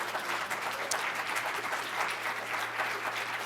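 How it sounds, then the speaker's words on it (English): A seated audience gives panelists a round of applause at the close of a Saturday morning event, a steady, even crackle of many hands at moderate distance with no voices. "Another round of applause for our panelists."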